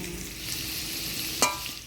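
Potato pieces fry in an iron wok, a soft continuous sizzle with a brief sharp scrape of stirring near the end, heard close and alone.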